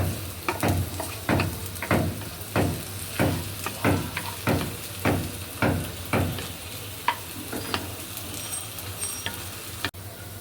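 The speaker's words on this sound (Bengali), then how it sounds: "পেঁয়াজটা যখন অর্ধেক ভাজা হবে তখন গরম মশলাগুলো দিতে হবে।" Onions fry in oil with garam masala, a constant sizzle under a regular rhythm of about a dozen loud spatula strokes against the pan, slowing and fading out near the end.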